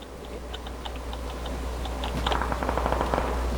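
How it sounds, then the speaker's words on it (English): Rapid bursts of gunfire in the battle royale game PUBG, a quick string of sharp cracks that turns heavier and denser in the last second and a half over a steady low hum. "I got people shooting at me from behind now."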